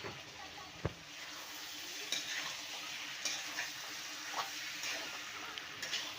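Fried potatoes are added to a pan of simple mutton curry, giving a faint, steady sizzle with a few stirring knocks and scrapes of a utensil against the pot.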